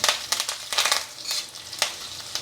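Lentils and green chillies fry in a pan in bursts of crackling sizzle, with stirring scrapes at an uneven rhythm, close and moderately loud.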